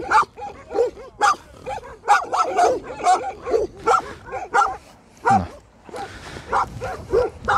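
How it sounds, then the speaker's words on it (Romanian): Several dogs bark repeatedly and excitedly at Remetea Mica near the end of a railway line, a loud, close, irregular volley of barks and yips with a voice briefly between them. "Vedeți? Atacat de câini."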